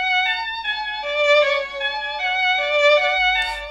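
A sampled violin melody pitched up three semitones in FL Studio for a trap/drill beat, bright sustained bowed notes stepping through a short phrase, clear and alone.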